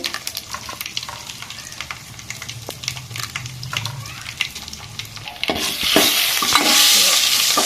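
Tempering for red masoor dal crackles and gets stirred in hot oil, then crushed onion and green chilli hit the pan and a much louder, dense sizzle takes over, close up and without talk.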